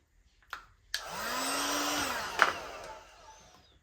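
A steady, loud heat gun whir starts abruptly after a couple of clicks and holds for about two seconds, heating vinyl wrap on a Cupra Ateca front bumper, then fades down to a low hiss.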